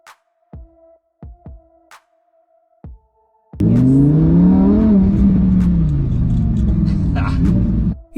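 A Lamborghini sports car roars to life after a few clicks and taps, then revs hard and accelerates with a loud, close engine howl that rises and falls in pitch for several seconds.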